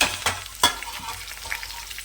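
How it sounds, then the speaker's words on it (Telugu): Curry leaves and mustard seeds hit hot tempering oil for tomato-mango dal, giving a sharp crackling sizzle with a few loud spits and pops, then a busy, close frying hiss. "కరివేపాకు వేస్తున్నాను ఫస్ట్. తర్వాత వచ్చేసి ఆవాలు"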